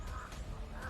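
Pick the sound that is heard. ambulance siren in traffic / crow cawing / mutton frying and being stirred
crow cawing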